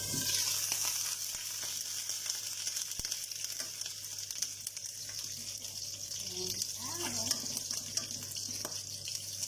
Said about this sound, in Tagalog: Zero natin, medyo tumitilamsik ang pagprito